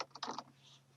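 A short burst of keystrokes on a computer keyboard while entering a name into a spreadsheet, a few quick clicks close by and then quiet.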